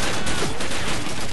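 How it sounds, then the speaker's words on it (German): A grenade blast in the World War II shooter Call of Duty 2 merges into a dense, continuous roar of game gunfire and explosions, loud and close throughout. "Jo, die Granate hat gesessen."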